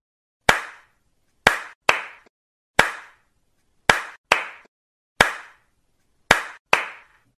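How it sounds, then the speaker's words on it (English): Hand clapping in a one-two pattern: nine sharp, close claps alone in a quiet room, a single clap followed by a quick pair, repeating evenly. "How many times did I clap? I heard one clap first, then two claps, and this continued 1, 2, 1, 2."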